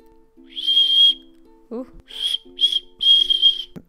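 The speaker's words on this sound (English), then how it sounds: "It's a lollipop that's also a whistle." A candy lollipop whistle is blown in four shrill, piercing blasts, one long toot and then three shorter ones, with a brief exclamation from a person between them.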